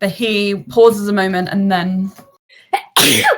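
A single sharp sneeze bursts out near the end, loud and close, right after a stretch of a person talking during a tabletop game session.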